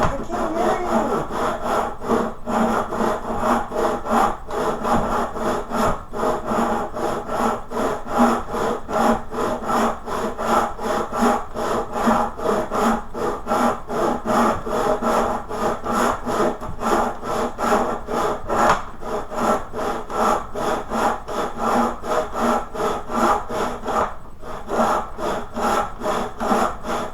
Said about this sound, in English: I can't hear you over my sawing.